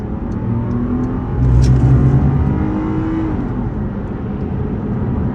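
A Subaru SVX's 3.3-liter boxer six engine hums steadily, then swells briefly as it accelerates and settles back into a smooth, refined drone.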